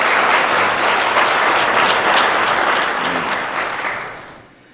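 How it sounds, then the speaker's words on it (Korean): A church congregation at a Korean Sunday worship service applauds to welcome visiting guests: full, dense clapping close and loud, holding evenly before tapering off at the end. "여러분들 환영의 박수 부탁드리겠습니다."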